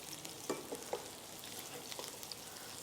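Quiet, constant sizzling of green chillies and celery leaves frying in a pan, with a few soft taps and stirring scrapes against the pan.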